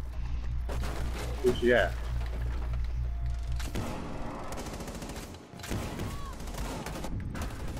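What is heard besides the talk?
gunfire in the video game Rainbow Six Siege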